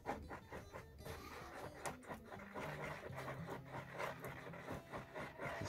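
An old nail stirring JB Weld epoxy on a shop floor, a faint, continuous scraping and rubbing with irregular gritty strokes and small clicks, heard alone.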